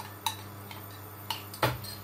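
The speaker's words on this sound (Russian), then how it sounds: "Хорошо размешаем." A spoon stirs milk mixed with a teaspoon of corn starch, giving a few light, sparse clinks against the dish with quiet gaps between them.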